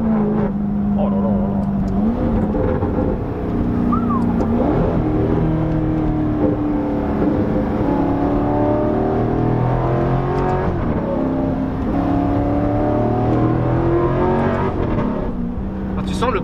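Alfa Romeo 8C engine revving and pulling hard under acceleration, a loud continuous roar that rises through the gears with a brief shift dip, heard from inside the car with people talking over it.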